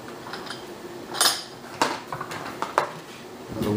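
Metal bolts from an Uzi Gal prototype submachine gun being handled and set down, making several sharp metallic clinks and clacks at uneven intervals over a quiet background, with no voices.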